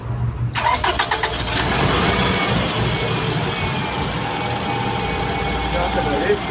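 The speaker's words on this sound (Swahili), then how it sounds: "kwanza inabidi niwashe gari letu" A Toyota Kluger engine cranks briefly and catches, then settles into a steady, fairly loud idle that runs on to the end with a faint mechanical hum.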